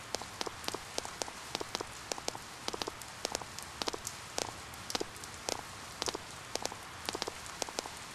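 Rainfall in the video game Persona 4, a steady hiss of rain with frequent sharp droplet ticks spread irregularly across the whole stretch, no voices.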